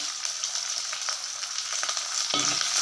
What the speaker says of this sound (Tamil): இதுவும் பூண்டும் கொஞ்சம் எண்ணெயிலே நல்லா வதங்கட்டும்